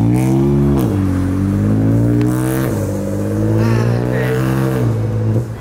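A car engine revs hard and holds a high, steady roar for several seconds, with a brief drop near the start and again near the end. It is loud and close, with no talk over it.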